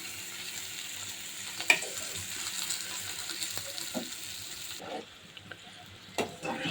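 Shrimp fry with spices in a pan, a soft, steady sizzle close by, broken by a few sharp clinks and scrapes of stirring.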